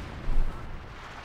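Field gun artillery bombardment in the strategy game Company of Heroes 2, a deep booming impact swelling briefly over a rumbling battlefield din.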